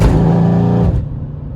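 A Mercedes C63S AMG engine roaring loud and close in a deep, throaty burst, then dropping off sharply near the end as the revs fall away.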